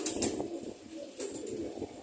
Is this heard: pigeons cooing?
yes